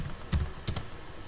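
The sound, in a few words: typing a command on a computer keyboard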